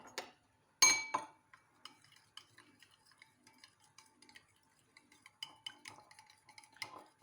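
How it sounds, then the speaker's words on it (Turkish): Eggs are whisked for crepe batter in a bowl, giving quick, irregular clinks and taps as the whisk scrapes and strikes the sides. The sound is close but fairly soft, with no talk over it. "Şimdi ne yapıyoruz? Hepsini iyicene çırpıyoruz arkadaşlar gördüğünüz gibi."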